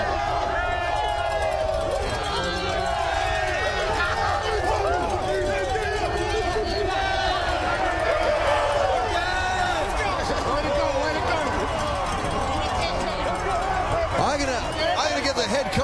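Stadium crowd at the 2010 CFL West Final trophy presentation for the Saskatchewan Roughriders in Calgary roars and chatters continuously, a dense, loud, steady babble of cheering fans with voices talking close by throughout.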